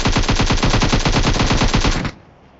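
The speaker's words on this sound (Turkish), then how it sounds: "Bu adamda M4 var bu arada. Aynen aynen gördüm duydum sesini." An M4 assault rifle fires in the video game PUBG: a loud, rapid, evenly spaced automatic burst of about two seconds that stops abruptly, leaving near silence.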